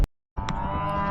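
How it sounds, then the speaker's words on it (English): A cow on pastureland gives a single close, loud moo that starts after a brief silence and carries on to the end. "But the cows are a bit noisy."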